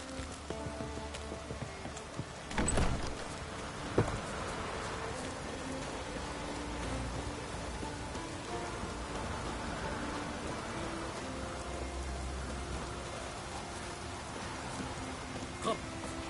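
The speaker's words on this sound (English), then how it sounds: "Looks like rain." Steady rain hissing down in a PS4 game scene, a constant wash of drops with a couple of brief thuds and faint background tones.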